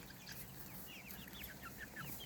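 Chickens, including white and gray Colombian Wyandottes, cluck softly in a hoop coop, with short repeated calls at a low level against quiet ambient noise.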